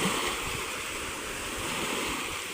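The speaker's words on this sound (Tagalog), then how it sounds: "Hangin ang malakas. Nandito tayo sa tabing dagat o." Strong wind roars across a seaside shore with waves washing in the background, a dense, continuous rushing noise with no speech.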